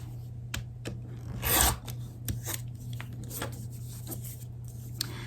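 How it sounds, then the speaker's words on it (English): Scissors or a trimming blade cut away excess fabric during foundation paper piecing, giving short, quiet snips and rasping strokes at an uneven pace over a low steady hum. "Okay, so we're cutting off the excess."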